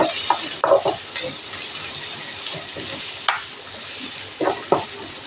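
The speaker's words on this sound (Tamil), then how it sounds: "அதுபோல் கருவேப்பிலையும் போட்டுடலாம் வெங்காயம் நல்லா வதக்கட்டும்" Onions and curry leaves sautéing in a pan for a flat-bean poriyal, with a faint steady sizzle under scattered scraping and clinking stirs from a ladle, close by and fairly quiet.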